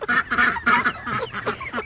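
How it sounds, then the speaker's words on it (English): Farm poultry with ducks and chickens, a loud close burst of honking, quacking calls repeating in quick succession. "The ducks are always scared of everything."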